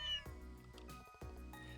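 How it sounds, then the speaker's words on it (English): A character named Antony meows in the video game Trails in the Sky, with one short catlike cry at the start and further brief cries over steady game music, all close and fairly loud. "Antony. Why are you meowing like that?"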